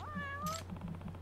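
A cat meows in the video game Judgment: a few rising-falling meow calls over a steady low game hum, with softer ambient sounds trailing after.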